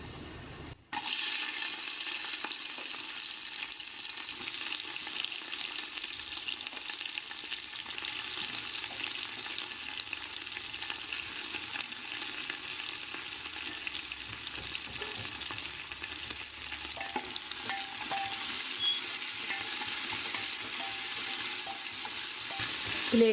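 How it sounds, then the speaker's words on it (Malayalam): Long slices of onion frying in a pressure cooker with fennel seeds, giving a steady, fairly quiet hiss and sizzle that begins with a sudden burst and continues evenly with no talking. "ഇതിലേക്ക് 3 സവാള നീളത്തിന് അരിഞ്ഞത് നമുക്ക് ഇട്ട് കൊടുക്കാം."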